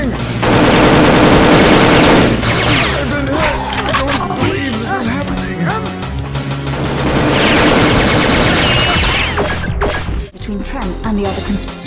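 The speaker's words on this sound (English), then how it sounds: "I'm shooting!" Sustained bursts of rapid automatic gunfire and shots from the Perfect Dark video game, loud and dense, with game voices shouting over the clatter and a short lull near the end.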